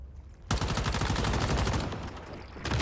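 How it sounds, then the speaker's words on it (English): Rapid automatic gunfire from a weapon fired at a boss in the survival shooter Once Human, beginning abruptly and continuing as a loud, dense stream of shots. "Now prepare yourself to start shooting the boss."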